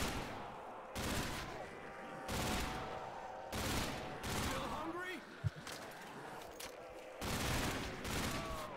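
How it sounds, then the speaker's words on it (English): An MG36 machine gun fires in bursts in a custom Call of Duty Zombies map, with several loud repeated volleys separated by short gaps and a player talking over the game sounds. "MG36, do your work."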